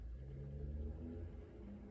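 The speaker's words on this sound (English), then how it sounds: "that, a truck. I don't know if you guys could hear that." A truck passes on a busy road outside near a lake, a faint, steady low rumble of engine drone from a distance, alone without voices, holding even for a couple of seconds.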